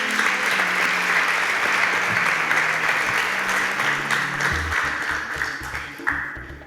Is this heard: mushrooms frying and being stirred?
no